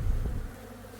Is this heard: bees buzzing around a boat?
yes